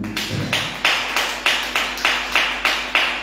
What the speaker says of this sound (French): Quelqu'un peut applaudir pour la gloire de Dieu.